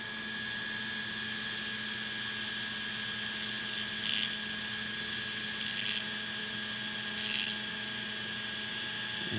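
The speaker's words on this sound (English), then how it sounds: "take the wheel and very gently kind of chamfer around the edges a little bit" A Dremel rotary tool with a wheel spins at slow speed, a steady high whine throughout, as it gently chamfers the edges of a knife's deployment hole, with three brief grinding contacts against the blade.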